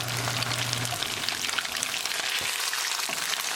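Tofu cubes sizzle and crackle steadily in a hot oiled pan for a vegetable stir fry, a continuous close frying hiss with scattered pops and a brief low hum at the start.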